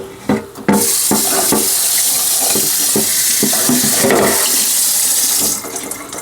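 Tap water runs steadily into a kitchen sink as something is rinsed off after cooking vegetables in avocado oil, a loud continuous gush with clattering dish and hand sounds, cutting off near the end.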